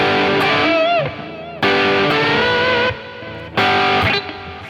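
A distorted electric guitar rings out in three loud strums on open strings, with bent notes sliding upward as each chord sustains and decays, in a slow blues style.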